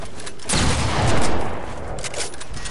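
Gunfire in a shooter video game, a dense, loud burst of rapid shots and booms rising then settling over a few seconds.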